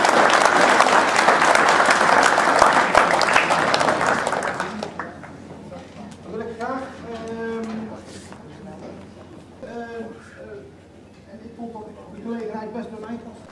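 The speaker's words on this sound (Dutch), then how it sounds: "Mag ik vanuit de zaal een korte applaus?" A hall audience gives a short burst of applause at a medal ceremony at Bronbeek; dense clapping fills the first few seconds, then fades as a voice talks over the room.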